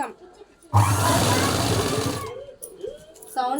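A tailoring sewing machine stitches piping onto a blouse in one loud, close burst of rapid whirring that lasts about two seconds. A voice talks before and after it.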